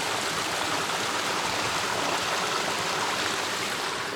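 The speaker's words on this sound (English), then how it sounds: "Another view of the waterfall." Steady rushing white noise of a waterfall and stream beside a footbridge near the shores of Loch Lomond on the West Highland Way, continuous and close, filling the whole moment with no voices.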